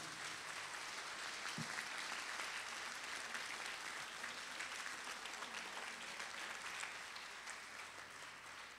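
A crowd at a book presentation gives a team steady, sustained applause, fairly distant and quiet, with dense continuous clapping that fades slightly near the end.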